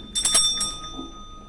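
A house bell rings briefly in a few quick strikes, and its bright metallic tone lingers and fades.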